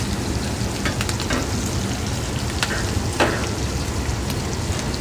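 Cheese is whisked into melted butter in a pan, giving a dense, constant bubbling sizzle with faint scattered clicks of the whisk, close and fairly loud.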